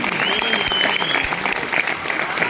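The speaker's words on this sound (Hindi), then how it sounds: "उसके लिए ताली हो सकती है।" A hall audience at a Kangen Water anniversary event breaks into steady applause, a dense and loud patter of many hands clapping continuously, with a crowd murmur underneath.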